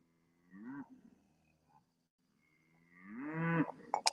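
Cattle low during a cow move on a rainy day: one short moo, a quiet gap, then a longer, louder bellow close by, with no talking.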